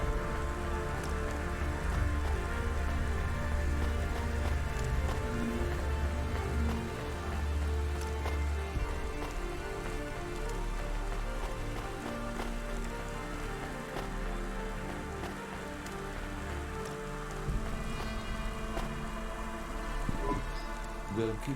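Steady rain falls in the CloudPunk video game on PlayStation 5, a continuous dense hiss with a low rumbling bed and tonal game ambience, loud and unbroken throughout.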